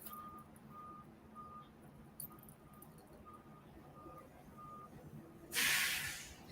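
A truck's reversing alarm beeps at a steady rhythm, fairly distant and faint, followed by a loud hiss of air brakes near the end.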